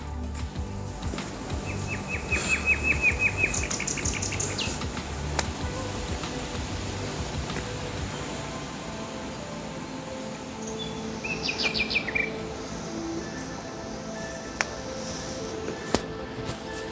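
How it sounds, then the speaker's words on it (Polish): Small birds chirping and trilling in short bursts in a small park by an abandoned mill, against a quiet outdoor hum, with faint insect buzzing in the background. "No, ptaszki fajnie śpiewają."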